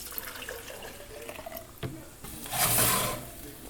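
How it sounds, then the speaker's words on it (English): Chicken stock is poured into a blender in a kitchen, making a short, splashy liquid rush near the end. Faint clinks come just before it, and the whole sound is fairly quiet. "pour about a cup of the chicken stock in there."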